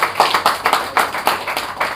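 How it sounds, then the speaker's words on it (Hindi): Audience members clap in a loose, uneven rhythm, distinct hand claps close by and fairly loud, several per second with small gaps between them. "जोरदार तालियां।"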